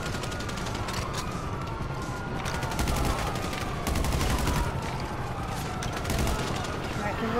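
Rapid automatic gunfire during helicopter combat in Grand Theft Auto V, a steady loud stream of shots with a rotor-like drone underneath, sustained throughout with voices talking over it.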